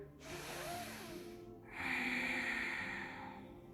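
Deep breaths during an evening yoga session: one long inhale followed by a fuller, louder exhale through the nose, close and alone with no talking.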